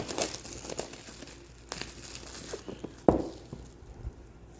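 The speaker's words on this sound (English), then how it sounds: "Just take the corner of my scissors down the side here. Open this up." Scissors cutting open the packaging of a G-Wolves HTX 4K gaming mouse, producing close crinkling and tearing of plastic with scattered light taps and one sharp snap partway through.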